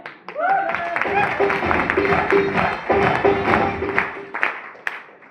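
A crowd at a talk claps together in a dense, steady wash of applause that runs nearly the whole time, with voices and laughter mixed in over it.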